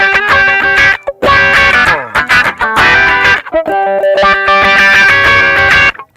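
An Elevate effects pedal's modulation, driven by the input level, shapes a loud, harmonically rich instrument tone that swells and shifts in bursts with short gaps between phrases.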